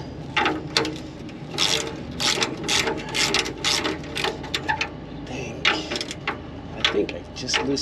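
Quick bursts of ratchet clicking from a hand wrench loosening a bolt on a Porsche 996 911 engine, coming in irregular runs close by, with bits of talk in between.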